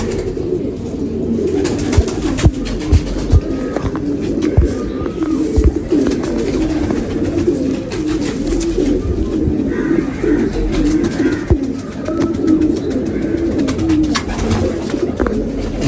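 Fancy pigeons kept by a pigeon fancier coo steadily in a low, rumbling chorus throughout, close and loud, with occasional flutters and faint chirps.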